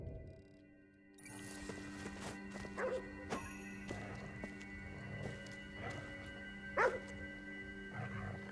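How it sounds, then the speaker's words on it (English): Dog barking in the GhostWire: Tokyo video game, a few scattered barks over a steady hum of game ambience and tonal background music. "何に向かって吠えてるんだ？"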